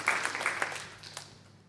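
Church congregation applauding during a Sunday worship service, a short burst of scattered clapping at moderate level that fades toward the end, with a little voice mixed in.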